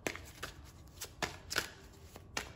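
Soft riffling and flicking of tarot cards being shuffled, a series of quick papery bursts, close and fairly quiet.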